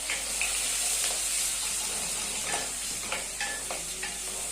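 A single onion fries and softens in a pan before green peas go in, making a steady close sizzle with occasional light clinks and stirring scrapes and no speech.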